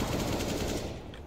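Rapid automatic gunfire rattles continuously through a first-person shooter game match in a dense, loud stream lasting just over a second.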